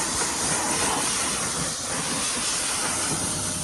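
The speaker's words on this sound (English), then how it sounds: "just water pressure from the pressure washer." Continuous loud hissing spray of a pressure washer, steady and broadband, with no talking.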